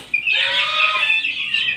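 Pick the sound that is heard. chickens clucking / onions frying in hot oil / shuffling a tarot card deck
chickens clucking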